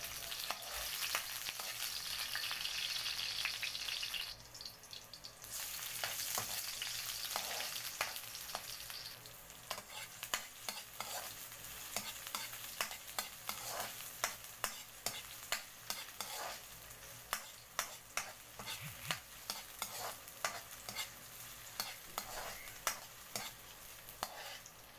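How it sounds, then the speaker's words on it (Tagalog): Garlic and onion sautéing in oil in a hot pan, a steady close sizzle broken by frequent sharp scraping and clicking strokes of a spatula stirring, no voices. "isaute na natin ang garlic at ang onion"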